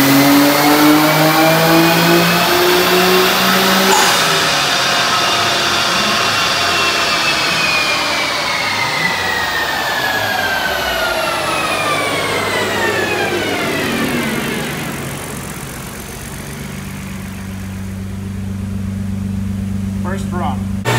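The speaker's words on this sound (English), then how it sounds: "let's go ahead and go watch this car get dynoed" A mystery car's engine revs hard on a dyno, a loud sustained roar whose pitch sweeps upward through the gears before dropping back to a steady lower drone, heard close throughout.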